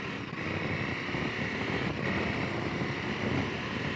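A KTM 1290 Super Adventure S motorcycle engine drones steadily while riding, a continuous loud hum mixed with wind rush and no speech.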